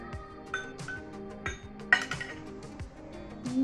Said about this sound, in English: Now I'm going to take out the spoon.